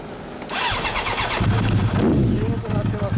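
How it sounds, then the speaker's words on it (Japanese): A 1993 Suzuki GSX-R1100 motorcycle with a different silencer cranks and starts, then idles with a rough, throaty rumble close by while people talk. "エンジンをさっき聞かせてもらえますか？ はい、そのままエンジンかけてもらって"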